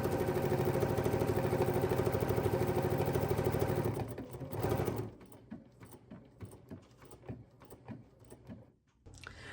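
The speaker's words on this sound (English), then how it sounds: "I'm going to do that same stitch around the heart" A sewing machine stitching around a heart appliqué on a gingerbread house quilt block, a steady fast mechanical whir for a few seconds that then breaks into short, uneven bursts of stitching, close and moderately quiet.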